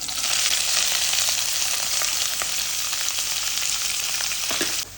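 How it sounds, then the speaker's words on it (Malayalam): Mustard seeds with chopped onion and green chilli frying in hot coconut oil for a bitter gourd thoran, a loud, steady, close sizzle dotted with small pops and crackles, with no talking. "കടുക് പൊട്ടി വരുന്നുണ്ട്. അപ്പോൾ അതിലേക്ക് നമുക്കൊരു സവാള ചെറുതായി മുറിച്ചതും ഒരു പച്ചമുളകും ഇട്ട് കൊടുക്കാം."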